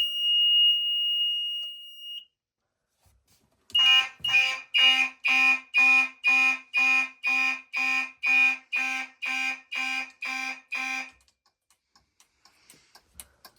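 A fire alarm on an open relay sounds in march time: a brief steady tone, a pause, then about a dozen loud, evenly spaced beeping pulses before it stops.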